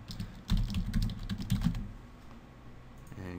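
Rapid clatter of keys on a computer keyboard as a password is typed, a dense burst of close clicks for about a second then trailing off into quiet room tone.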